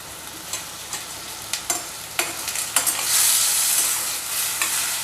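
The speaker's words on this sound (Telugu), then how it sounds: "ఆయిల్ అయితే హీట్ అయింది. నేను 4 టమోటాల దాకా తీసుకున్నా. కొద్దిగా చింతపండు వేసుకోండి." Tomatoes and tamarind frying in hot oil for a mint chutney, with a steady sizzle that swells loudly midway and sharp scrapes of a spoon stirring the pan at a regular pace.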